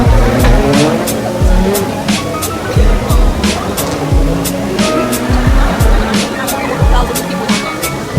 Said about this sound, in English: There's also a race going on.